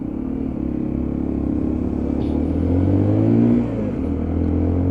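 A Lexmoto ISCA motorcycle accelerating through the gears, its engine droning and climbing in pitch, briefly easing off at a gear change, then pulling hard again, loud and close throughout.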